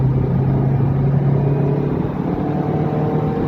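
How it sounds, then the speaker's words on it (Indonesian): A truck passes on the road, heard from inside a moving Honda Brio as a loud, steady low rumble and drone that carries throughout with no talk. "Ada truk."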